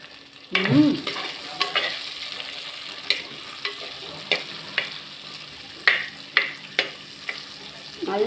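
Chicken pieces fry in a pan and are stirred for a home-style chicken fry, giving a steady sizzle beneath repeated sharp scrapes and clicks of the spoon against the pan.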